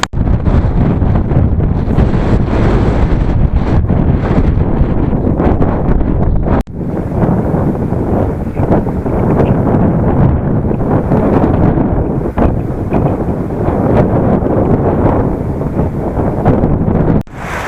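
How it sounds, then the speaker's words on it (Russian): Strong wind buffeting a microphone on open Mongolian steppe, a loud continuous roar with gusty swells and one brief dip partway through, alone without voices. "Здесь просто открыто все и вообще задувает конкретно."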